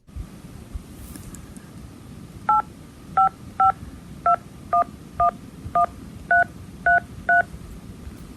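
Touch-tone telephone keypad dialing a number: ten short, clear beeps in an uneven rhythm over faint background hiss.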